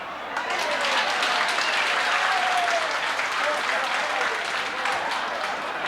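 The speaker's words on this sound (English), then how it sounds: "Clap your hands." An audience at a 1992 concertina jamboree in Allenton clapping hands, a loud, dense, sustained round of applause from a hall crowd, with a faint whistle or voice briefly rising through it.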